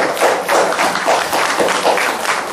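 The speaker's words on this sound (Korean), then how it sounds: "박수 한번 치죠." Audience applause on a talk show panel about internet portals, a fairly loud, even run of claps from a studio crowd, with no talking.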